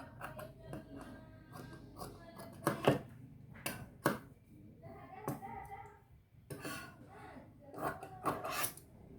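Scissors snip and rasp through fabric pieces for children's clothing, in a run of short, close cutting strokes with small rustles between them.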